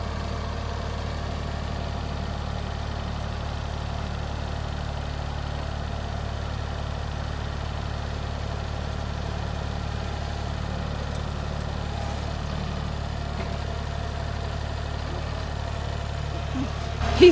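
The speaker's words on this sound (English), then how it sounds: "I got a little overzealous with the loader control and dropped the bucket" A tractor loader engine idles and works steadily while pushing woven-wire fence T-posts into the ground, a low, constant rumble held at an even level, with a brief louder bump at the very end.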